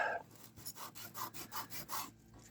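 Repeated back-and-forth sanding strokes on a small Gaslands model car, a steady rasping rhythm of about eight close, moderately quiet passes with no talking.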